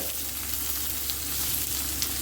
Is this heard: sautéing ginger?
yes